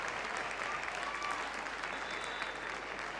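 Applause from the crowd at a Barclays WSL women's football match between Man Utd and Everton ripples steadily around the stadium, a dense, continuous clapping wash that holds at an even level throughout.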